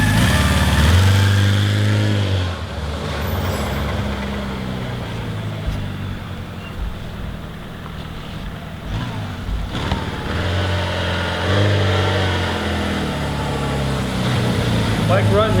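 Engine of a 1977 Honda CB750A Hondamatic motorcycle, a stock vintage bike with automatic transmission, running with a low rumble and occasional revs; a person talks over it through much of the sound.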